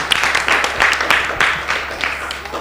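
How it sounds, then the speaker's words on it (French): An audience at a children's show claps loudly and energetically, with bursts of cheering rising over dense, close applause that carries through to the end. "On acclame très très très fort."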